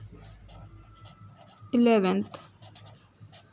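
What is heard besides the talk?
writing a fraction by hand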